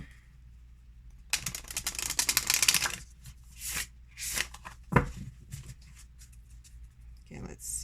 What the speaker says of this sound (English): It feels a bit stiff, me trying to shuffle them.